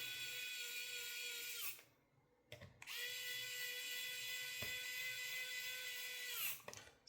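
A small electric screwdriver drives M2 screws into an RC 1/18 scale trailer frame, a close high whine running in two long bursts with a short pause and a brief click between them.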